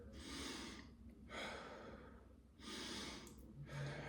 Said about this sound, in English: Get some good deep breaths in, re-oxygenate your body